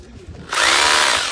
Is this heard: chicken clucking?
no